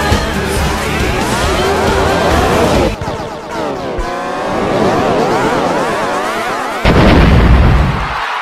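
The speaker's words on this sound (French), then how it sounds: "ça devrait faire exploser la machine" A machine blows up in a chaotic burst of cracking, rattling bangs, loud and busy for about three seconds, then a second run of crackling blasts and a final heavy boom near the end, with no talk over it.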